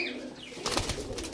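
Pigeons coo in a loft of Teddy breed pigeons, a soft low murmur that swells in the second half, with faint rustling of birds nearby.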